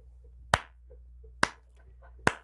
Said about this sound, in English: Slow clap Ana Navarro.